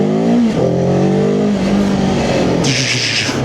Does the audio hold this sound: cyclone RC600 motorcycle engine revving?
yes